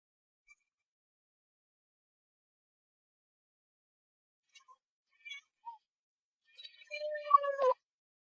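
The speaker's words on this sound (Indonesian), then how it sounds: "Kucing peliharaan di rumah itu sangat jinak." A pet cat in a quiet house, heard first as faint scattered chirps and short mews, then building to a louder, drawn-out meow near the end, with nothing else around it.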